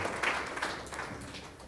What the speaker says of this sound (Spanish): Ese aplauso fuerte para nuestro amado Señor Jesucristo, nuestro Salvador